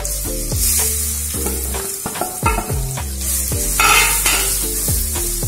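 Grated coconut sautéing in melted ghee for Kerala banana (nendran) halwa, a steady sizzle with repeated scraping stir strokes against the pan, close and fairly loud, with no speech.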